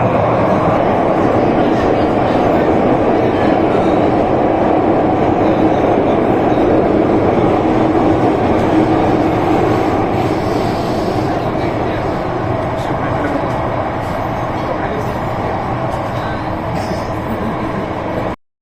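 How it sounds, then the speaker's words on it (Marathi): Mumbai Metro Line 3 underground train running at speed, heard from inside as a loud, continuous rumbling roar that holds steady throughout, with a voice speaking over it. "रेल्वे सुरू झालेली आहे किती फास्ट कळते बघा ही रेल्वे अंडरग्राऊंड रेल्वे"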